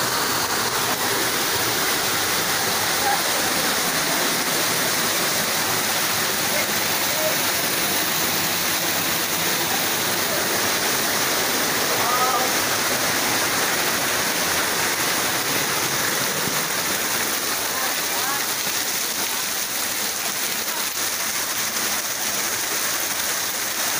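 Steady, loud roar of rushing flash-flood water in Selaawi, Garut, a continuous broadband wash with no pauses or voices.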